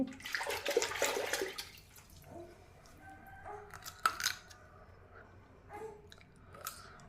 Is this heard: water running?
yes